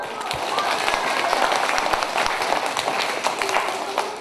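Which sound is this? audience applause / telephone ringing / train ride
audience applause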